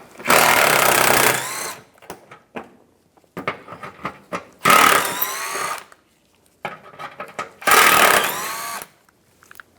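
Power tool driving screws out of a 2010-2014 Cadillac SRX valance panel with a 10mm socket: three loud, sustained whirring bursts of a second or so each, separated by quieter clicks and handling noises, close up with no talk.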